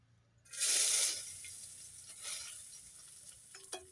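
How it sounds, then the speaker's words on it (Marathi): Chopped onion dropped into a ladle of hot oil in a pan over a wood-fired chulha, giving a bright burst of sizzling that fades into a softer crackle with a few light clinks. "आता मी घालते कांदा."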